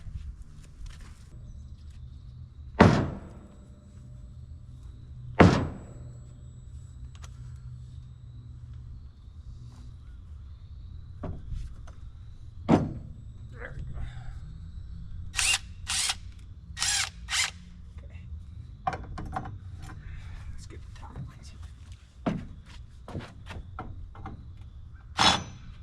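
An Earthquake 1/2 inch impact wrench works on rusted bolts, firing in short hammering bursts separated by pauses, close and loud against a quiet background.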